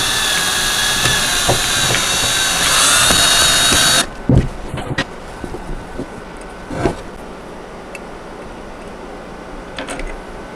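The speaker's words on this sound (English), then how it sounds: "we're going to screw that into place and do the same thing on the other side" A power drill whirs steadily up close for about four seconds, driving a screw through a doll bed headboard into its top rail, then stops, followed by scattered light knocks and handling creaks.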